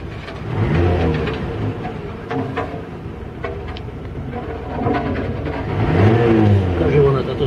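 A VAZ 1.6 eight-valve engine fitted with a 56 mm throttle body revs in short bursts, rising and falling whines over a rough idle, with people talking close by throughout.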